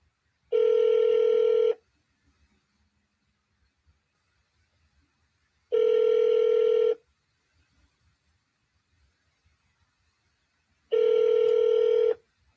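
Three long, steady telephone ring tones on a line during a call transfer, evenly spaced with silent gaps between them, clear and alone.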